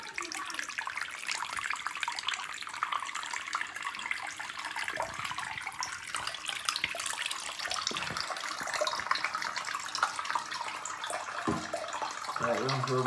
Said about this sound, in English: then I turn on the water.